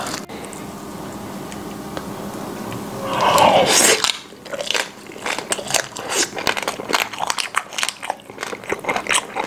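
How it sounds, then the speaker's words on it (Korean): Crunchy bites into the crisp crackling skin of a German pork knuckle, close and loud, followed by chewing and crackling of the crust. "겉에가 바삭바삭바삭바삭."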